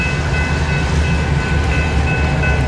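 Northbound freight train reversing in Fremont, Nebraska, giving a steady loud rumble of rolling cars with a faint high squeal, close by and continuous throughout.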